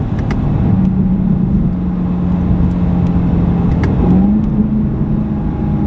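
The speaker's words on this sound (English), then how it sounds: "this is the maximum of the sound level this car is able to produce" A loud, steady 2019 BMW M850i xDrive Coupé engine drone holding a low pitch, with a brief rise and occasional sharp exhaust pops crackling over it.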